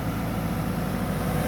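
The original engine of a CAT E120B excavator runs steadily at idle, a continuous low diesel rumble heard up close with no talk.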